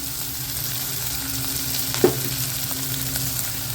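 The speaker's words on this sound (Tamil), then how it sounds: "கருவேப்பிலை வெங்காயம் போட்டலாம் இஞ்சி பச்சை மிளகாய் போட்டலாம்" Curry leaves, onion, ginger and green chili frying in oil for ragi upma, a constant close crackling sizzle with one sharp clack of a utensil midway, no one talking.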